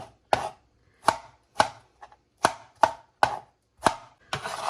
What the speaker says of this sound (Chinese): 草莓给它去蒂以后，给它切成小块